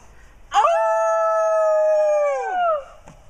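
A person imitates a wolf with a single long, clear howl outdoors near St. Paul's, rising sharply, sustained for about two seconds, then sliding downward and fading.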